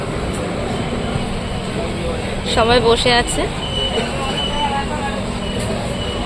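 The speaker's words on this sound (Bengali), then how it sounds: "তো ট্রেন ছেড়ে দিয়েছে" Interior of a moving overnight passenger train departing Kolkata, with a steady low rumble of the carriage running beneath nearby conversation and a brief louder burst of voices partway through.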